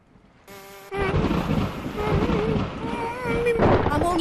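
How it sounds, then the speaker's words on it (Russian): Cartoon thunder rolls in as a loud, deep, sustained rumble that builds after a quieter start, with tonal voice-like sounds layered over it. "То, что ты сейчас слышал, это раскаты грома."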